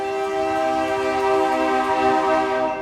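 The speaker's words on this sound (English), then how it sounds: "You can hear the trains throughout the day and night." A train passes through a small farming town with a loud, sustained horn blaring in steady chords over the rumble of the rail cars, close and continuous throughout.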